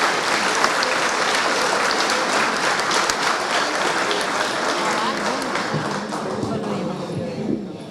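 Applause from the audience at an international seminar opening, a loud dense clapping that carries throughout, with voices talking underneath toward the end as it slowly tapers.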